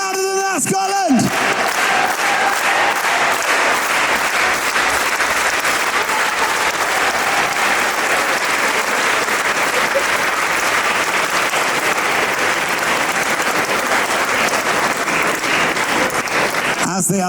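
A large convention crowd at a Comic-Con panel in Scotland claps loudly and continuously for a long stretch, a broad wash of hands with cheering mixed in, bracketed by brief speech at the start and end.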